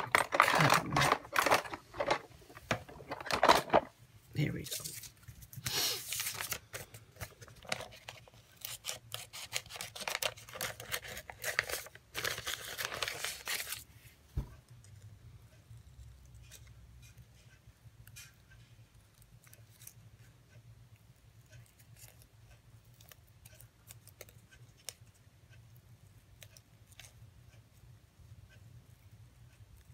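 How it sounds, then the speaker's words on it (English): Crisp scissor snips cutting flower stems come in quick bursts for several seconds, with a brief spoken phrase, then only quiet room noise remains. "Let's get a pair of scissors and cut them."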